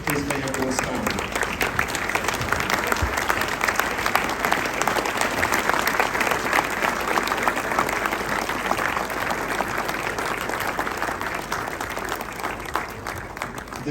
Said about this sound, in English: may I request everyone to stand up and give everybody at the centre, the management, the trustees, a huge round of applause